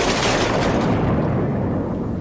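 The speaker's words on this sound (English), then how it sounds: "That night, a rocket hit close by." A V2 rocket strikes close by in a wartime London night, rendered as a deep, sustained rumbling boom that fills the whole clip, loud and broad with no voices over it.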